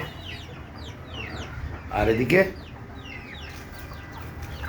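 Hens and small chicks in a rooftop coop of native desi chickens cluck in quick short bursts, with a louder flurry of calls near the middle, as someone talks over them.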